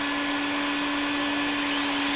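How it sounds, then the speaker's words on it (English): A vacuum dust extractor hooked to a Festool Domino joiner runs with a loud, steady whine and a constant tonal hum, close and continuous with no pauses. "I will turn on the vacuum"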